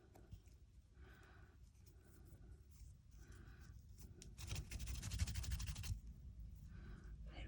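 Paper edges being rubbed and highlighted for a junk journal, a soft dry scratching and brushing that comes in short strokes, then grows louder and denser partway through with no talking.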